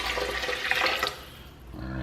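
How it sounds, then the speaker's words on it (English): Water pours into a blender while a green smoothie is being made, a brief splashing gush that stops partway through, with no voices. "And we're going to take our water"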